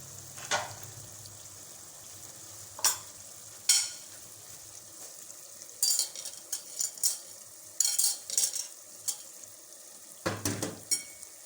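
Tinda keema fry, a gourd and minced-meat dish, being mixed and dished out of a pan, faint sizzling under repeated sharp scrapes and clinks of a metal spoon against the pan.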